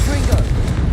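A Confringo spell explosion in Hogwarts Legacy combat, a loud, dense, booming blast that fills the entire short moment with low rumbling, with voices mixed in.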